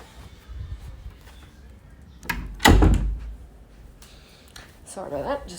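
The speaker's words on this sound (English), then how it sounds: "Sorry about that, just closing the door." A door closes once partway through with a solid thump, loud and close, while a household moves faintly in the background.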